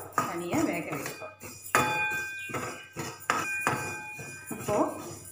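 Split mung beans (moong dal) are being dry-roasted in a pan, with a series of close metallic clinks and scrapes as they are stirred, coming in irregular bursts with short gaps.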